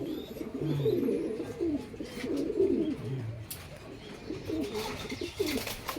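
Young pigeons about 25 days old coo in soft, repeated low murmurs close by, with faint chirps and light rustling mixed in.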